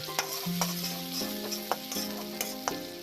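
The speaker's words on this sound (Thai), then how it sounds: "เอากระเทียมมาลงคั่วเลยครับ" Garlic fries in oil rendered from pork skin and fat for a Northern Thai jackfruit salad, with a steady close sizzle broken by sharp spatula scrapes against the pan about every half second.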